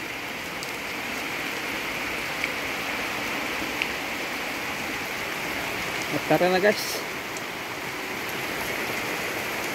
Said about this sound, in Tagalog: Dahil malakas na yung ulan